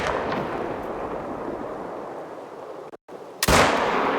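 A 6.5 rifle fires in the hunting game Call of the Wild, one loud, booming shot with a sharp crack near the end after a long rumbling tail from an earlier report.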